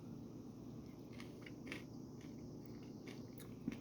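Someone chews crunchy keto cinnamon toast cereal in milk, soft repeated crunching bites close by under a quiet background.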